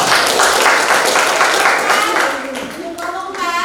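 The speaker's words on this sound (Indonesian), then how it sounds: "Ya, tepuk tangan ya." Classroom applause from a group of students, dense and steady at first, then thinning under children's voices toward the end.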